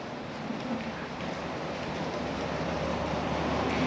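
Continuous rain hisses at a moderate level at a hotel in Clark, Philippines, a steady wash of sound with a faint low rumble underneath and no talking.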